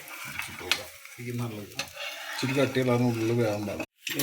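Dosa sizzling on a hot pan after ghee is drizzled over it, a steady frying hiss running under a person talking, with a few scraping clicks and a brief drop to silence near the end.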